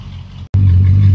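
Rebuilt Mercedes E55 engine idling steadily after start-up, a low, even hum with a brief cut in sound partway through before the drone resumes.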